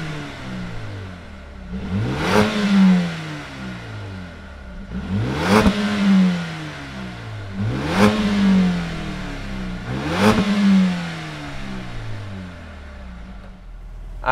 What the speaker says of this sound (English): Let's fire up this AMG product and see what it sounds like.